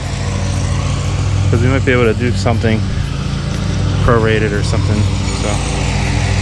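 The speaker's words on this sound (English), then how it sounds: "Sorry about the lawnmower." A steady low engine drone like a lawn mower runs throughout, close by, with a person talking over it.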